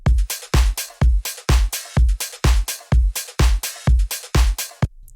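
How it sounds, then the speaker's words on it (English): A sparse, minimal tech house electronic drum beat plays alone: punchy kick and percussive hits in a steady, evenly spaced groove, ending abruptly. "the drums of this beat sounds like this."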